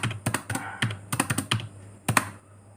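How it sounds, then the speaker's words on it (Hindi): Computer keyboard keys pressed while working in Microsoft Word mail merge, mostly Enter and left arrow: about a dozen sharp, close clicks in irregular bursts, with no talk. "डिलीट पे एंटर करो और उसके बाद लेफ्ट एरो से यस पे आओ एंड एंटर करो"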